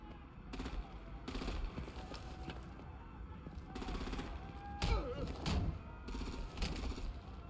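Bursts of gunfire and heavy artillery blasts from the video game Batman: The Enemy Within, repeated loud volleys over a busy battle backdrop, with voices talking at points.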